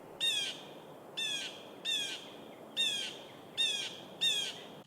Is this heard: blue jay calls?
yes